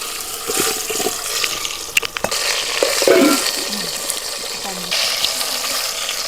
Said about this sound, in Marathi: तेलामध्ये मिरची बैंगन भाजायची